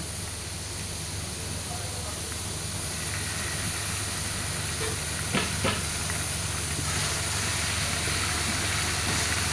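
Ginger and garlic added to browned onions in a pan sizzle with a steady, loud hiss that carries through the whole stretch, with a few brief stirring clicks near the middle.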